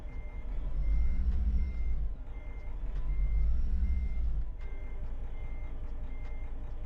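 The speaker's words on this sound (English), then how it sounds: "Whenever it's idling, it sounds like a diesel" A truck engine in American Truck Simulator gives a low diesel-style rumble that swells and eases a couple of times, while steady, regularly spaced electronic beeps sound over it.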